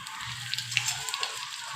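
Two dry red chillies sizzling in hot oil with mustard seeds, with the gas turned off, while tempering for Nagpur-style kadhi: a steady close crackling hiss with small pops throughout and no talk.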